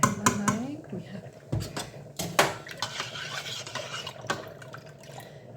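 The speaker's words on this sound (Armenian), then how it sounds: "Կխառնեմ ցավարը, կնայեմ," A spoon stirring matsun soup in a pot on the stove gives close clinks and scrapes against the metal, with a few sharper knocks among softer swirling liquid sounds and no talking.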